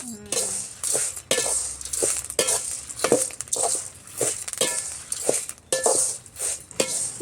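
Urad dal roasting in a pan for pirandai idli podi, with repeated scraping and clinking of a spatula against the metal pan in an irregular rhythm, close and fairly loud, with no talking.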